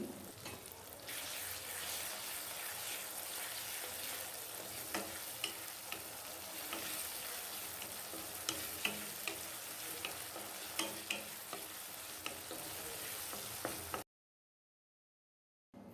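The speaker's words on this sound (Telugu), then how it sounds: "ఇప్పుడు టీ స్పూన్ అల్లం వెల్లుల్లి పేస్ట్ వేసి బాగా కలపాలి" Ginger garlic paste is stirred into frying tomatoes, a continuous close sizzle punctuated by frequent sharp clicks and scrapes of stirring, then a sudden cut to silence near the end.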